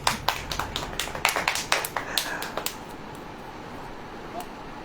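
A sermon audience claps in a short, sparse burst of separate, sharp hand claps over the first half, then it thins out to a quiet room hum.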